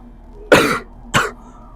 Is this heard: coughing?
yes